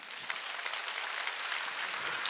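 A church congregation at a prayer service claps steadily, dense and sustained throughout, without a clear break or any voices standing out.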